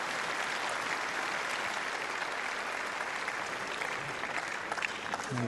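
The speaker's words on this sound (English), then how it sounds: "Good round of applause." Audience applause at a professional women's tennis match at the Hobart International as a player leaves the court; a broad, even wash of clapping from the stands, moderately distant and steady throughout.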